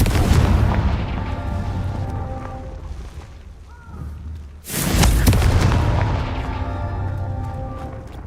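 Confringo blast spells exploding in the Hogwarts Legacy video game: a loud deep boom rumbling off, then a second sharp heavy blast that rolls away into a long decaying roar.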